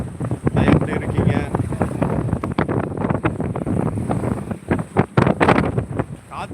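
Strong wind gusts across Veeranam lake buffet the microphone in a loud, continuous roar with rough bursts and dips.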